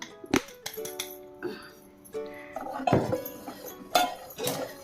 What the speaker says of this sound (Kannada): ಗ್ಯಾಸ್ ಆಫ್ ಮಾಡಿ ಕಲಿಸ್ಬೇಕು